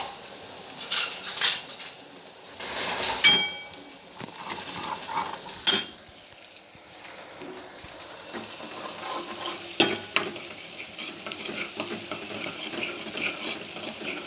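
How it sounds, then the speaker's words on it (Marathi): Coriander paste roasts in oil in a pan, giving a soft sizzle with bursts of loud metal clanks and scraping from a spoon against the vessel. Between the sharp knocks the frying fades to a quieter hiss, and no one speaks. "हे ना मिश्रण चांगलं भाजायचं तेलामध्ये"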